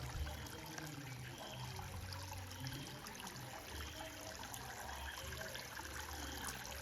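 A shallow forest stream flows past a temple in the woods, a faint, steady wash of running water with a constant high insect-like whine over it.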